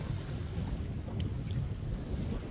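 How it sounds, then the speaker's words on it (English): Strong wind buffets the microphone on a fishing boat on Lewisville Lake, giving a loud, constant low roar with faint water sounds beneath and no talking. "Too much wind."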